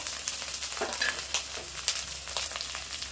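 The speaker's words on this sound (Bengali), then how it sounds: "পেঁয়াজ আর আদাটা কিন্তু খুব ভালো করে একটু ভেজে নেবো" Onion and ginger paste frying in oil with chili powder for a boal fish kalia, a continuous sizzle broken by scraping stir strokes, close and steady.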